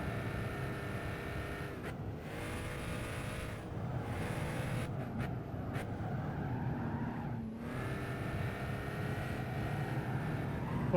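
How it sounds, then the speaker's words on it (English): Car engine in the Gran Turismo 5 racing game, a steady droning tone that rises and falls with gear changes, with brief dips at shifts, sustained and fairly loud throughout with no talk. "This car sounds unique."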